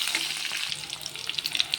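Green chillies are sautéed in a hot pan, giving a steady oily sizzle and crackle with light stirring scrapes, close and continuous, with no talking.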